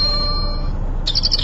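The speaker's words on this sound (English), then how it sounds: "I like that. The little birds chirping." Startup sound of a Canon PowerShot S5 digital camera: a short, bright electronic bird-chirp trill arrives near the end, heard over a steady low background hiss with no talking.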